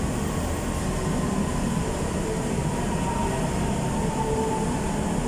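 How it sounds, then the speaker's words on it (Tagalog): A commuter train pulls into a station in Manila on the Ortigas to Cubao route, a loud, steady rumble and rail roar that fills the whole stretch without pause. "may paparating na isang train"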